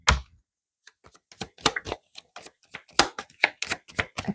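Tarot cards shuffled by hand in a series of crisp, irregular riffling bursts and soft slaps, close and clear, with no talk over them.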